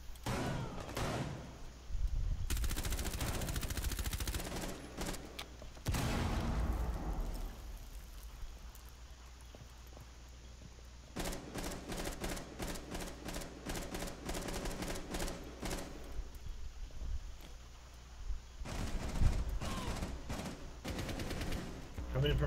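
Rapid bursts of automatic gunfire in Rainbow Six Siege on the Bank map, several loud rattling volleys separated by quieter stretches, with a few single sharp shots between them.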